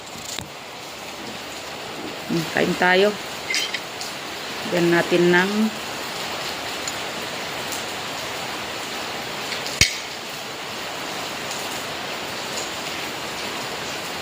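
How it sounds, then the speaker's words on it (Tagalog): Heavy rain pours in a steady, even hiss throughout, with a voice speaking briefly over it and a single sharp knock near the end. "ulan, lakas ang ulan dito."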